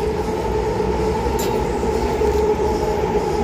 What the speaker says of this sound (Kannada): ಮೆಟ್ರೋ ಟ್ರೈನ್ ಪಾಸ್ ಆಗ್ತದೆ.